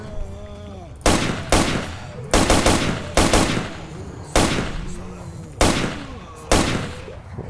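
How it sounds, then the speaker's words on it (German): Gunfire in the video game S.T.A.L.K.E.R. Lost Alpha, shooting at zombies: sharp, loud shots ring out at roughly one-second intervals, each with a short echoing tail. "der eine Schuss ging gerade eben ganz daneben"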